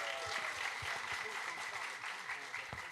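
Steady applause fills a room at a piano recital, a crowd clapping continuously at moderate, somewhat distant volume, with faint voices mixed underneath.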